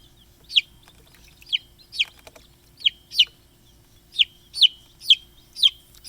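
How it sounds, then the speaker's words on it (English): Egg-laying chickens on a farm give a series of about nine short, high, evenly spaced clucks and chirps, close and clear against a quiet background. "They are egg-laying chickens."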